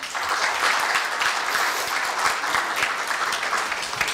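Big, steady applause from the audience at a Korea University staff retirement ceremony during a flower presentation, many hands clapping in a continuous dense wash at moderate distance.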